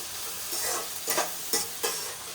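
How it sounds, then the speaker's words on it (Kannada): Mushrooms frying in a pan make a steady sizzle broken by three or four short scraping stir strokes, close and fairly quiet, with no talking. "ಇದು ಚೆನ್ನಾಗಿ ಕೆಂಪಗಾಗೋವರೆಗೂ ಫ್ರೈ ಮಾಡ್ಕೋಬೇಕು."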